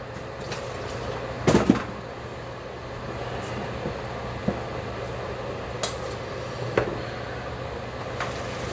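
A metal colander and pots are handled in a home kitchen while roasted chicken and sides are prepared: a few sharp clanks and knocks stand out over a steady low hum, with a louder rattling clatter early on.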